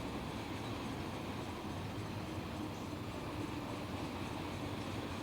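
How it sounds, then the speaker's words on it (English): BNSF freight train approaching in Run8 Train Simulator, a steady, dense rumble of rolling wagons and rail noise that holds evenly at moderate loudness throughout, with no voices over it. "I'm going to take control of this BNSF train that's approaching"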